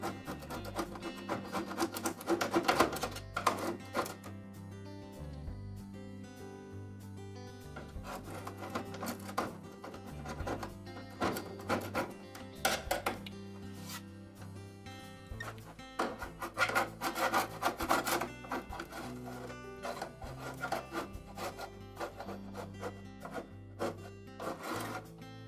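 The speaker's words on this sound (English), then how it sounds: "We'll scrape that all out of there." Old felt seal remnants and glue being scraped off the upper front of a Frigidaire dryer, a steady run of rough rasping strokes, close and fairly loud, with no talking.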